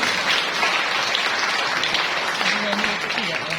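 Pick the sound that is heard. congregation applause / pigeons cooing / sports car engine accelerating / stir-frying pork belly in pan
congregation applause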